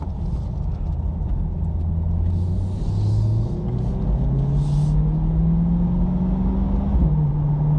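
A 2020 C8 Corvette with the 5VM carbon fiber package, heard from inside the cabin as its engine drones steadily and the pitch climbs, drops and climbs again through several gear shifts, with no one talking.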